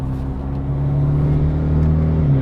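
BMW G20 330e with a B48 engine, DCE catback exhaust and 200-cell downpipe, droning steadily from on board at a low, even cruise, a deep continuous hum with no talk.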